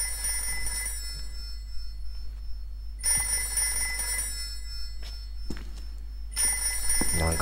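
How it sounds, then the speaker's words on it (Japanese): An old-style telephone rings in the PS2 horror game Demento, with repeated bell bursts near 0–1 s, 3–5 s and again at the end, separated by quiet gaps and a few soft thunks. "古いタイプのまた電話やな"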